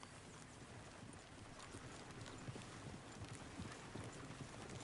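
A galloping horse in Red Dead Redemption 2 gives a continuous, fairly faint rumble of rapid hoofbeats under a wash of wind-like noise.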